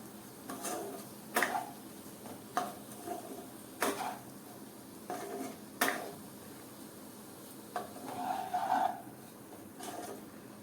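Spiced potatoes with cumin, fennel, mint and chaat masala being stirred in a pan, heard as sharp spoon taps and scrapes recurring every second or two, faint and close.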